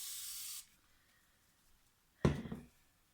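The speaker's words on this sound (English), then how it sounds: "spray it with rubbing alcohol" Two short bursts of rubbing alcohol sprayed from a spray bottle onto the top of freshly poured cold process soap, the first a steady hiss of about half a second, then a pause before a sharper, slightly longer spritz, close and alone.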